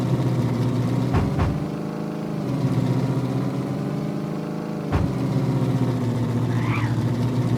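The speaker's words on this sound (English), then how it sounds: "This truck is so loud." Loud, steady truck engine drone in the video game Factory Simulator, a continuous low rumble with a couple of brief sharp clicks, heard alone without talk.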